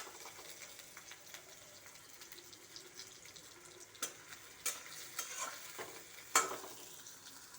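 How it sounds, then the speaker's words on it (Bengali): Leafy greens frying with onion and garlic in a pan make a quiet, soft sizzle with scattered stirring clicks and scrapes that grow busier toward the end, heard without talk. "এইভাবে আমি শাকটাকে ভেজে নেব"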